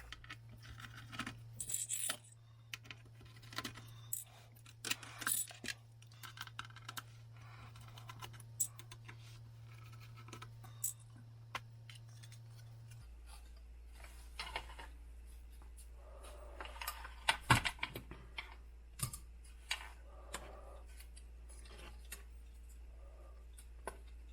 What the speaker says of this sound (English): let's pull the screws out, lift the system out